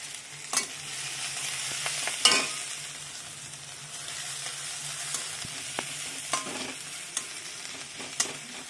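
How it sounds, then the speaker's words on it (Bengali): Steady hiss of onions sizzling in hot vegetable oil in a wok, broken by occasional clinks and scrapes of a utensil stirring in the pan. "এই কড়াইতেই তেল দিয়ে দিলাম, পেঁয়াজ ভেজে নিচ্ছি।"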